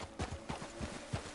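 Horse hooves clip-clop in Red Dead Redemption 2, a steady walking rhythm of about eight close, moderately loud hoofbeats over a low ambient bed with no talk.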